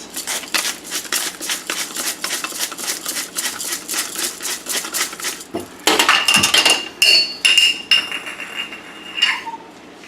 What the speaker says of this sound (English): we're going to grind some fresh salt